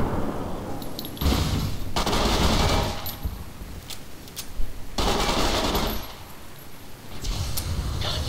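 Automatic gunfire in Fallout New Vegas, several loud bursts of rapid shots broken by short gaps, with occasional heavier booming impacts, ending as the weapon runs dry.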